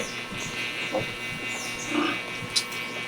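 Soft grunts and snuffling from a sow, with a few higher squeals from her five young piglets, faint and scattered over low background noise.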